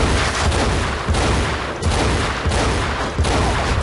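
Rapid, dense gunfire in the video game Battlefield Heroes, loud bursts of shots rattling almost continuously with brief dips between volleys.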